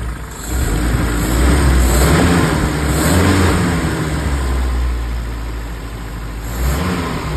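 A car engine, fresh from new ignition parts, revs up strongly and holds a loud, steady high drone before easing back toward a lower idle, heard close with no talk.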